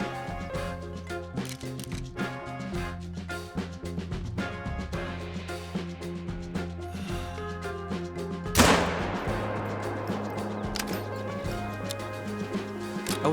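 A single hunting rifle shot in theHunter: Call of the Wild on the Layton Lakes map, aimed at a distant moose: one sharp, loud report about two-thirds through with a decaying tail, over a steady tonal background.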